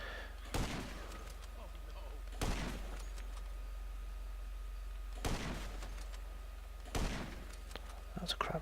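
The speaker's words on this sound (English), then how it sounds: "snipe everybody from this position" Sniper rifle shots in the GTA Online video game, four sharp loud reports spaced a couple of seconds apart, each with a short booming tail over a low constant rumble.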